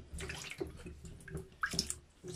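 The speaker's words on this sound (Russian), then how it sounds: "3 вот этих кусочка я сейчас быстренько положу в воду" Frozen meat pieces being placed into a bowl of water to thaw in a home kitchen, quiet splashes and drips with a few sharp plinks, faint and close.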